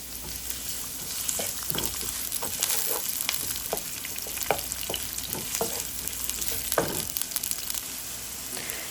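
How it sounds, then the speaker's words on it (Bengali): Chopped onion fries in hot oil in a wok, making a steady, close sizzle with occasional sharper crackles and stirring scrapes and no voices. "তেলটা গরম হয়ে আসলে তাতে হাফ কাপ পেঁয়াজ কুচি দিয়ে দিব"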